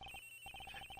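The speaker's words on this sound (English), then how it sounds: "Agent Hicks's phone. It's somewhere ringing from somewhere around here, sir." Phone ringing in the Ace Attorney Investigations: Miles Edgeworth game, a quiet, rapid electronic trill in quick bursts with a brief pause near the start.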